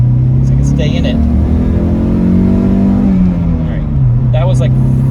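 A manual Volvo 740 with a bigger, old-school turbo and upgraded exhaust revs hard from inside the cabin, a loud sustained engine drone rising then falling, with a person speaking briefly over it.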